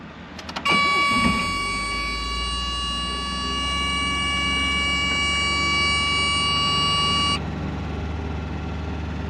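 A 1980 MG Midget's engine is started, with a brief crank, then settles into a steady, loud running drone alongside a constant high electronic whine that cuts off near the end; no one speaks.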